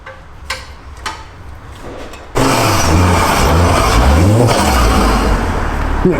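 A Ford Focus ST engine starts up and revs as the car pulls away, the low rumble rising and falling after a quieter ticking idle.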